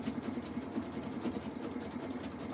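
A Pfaff sewing machine stitches a jelly roll rug, its needle pulsing in a fast, even rhythm over a steady motor hum, close and continuous without pauses.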